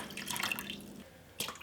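Water splashes into a cooking pot from a tap, a short trickling pour that stops, then a brief second splash.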